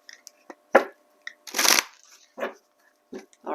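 A tarot deck being shuffled in several short bursts of papery card riffles and slaps, one longer riffle in the middle, close and fairly loud with quiet gaps between.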